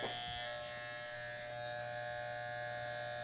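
Electric hair clippers shaving up the sides of the head to the t-shirt line during a faded side part haircut, a steady close, loud buzzing hum with no break and no talk.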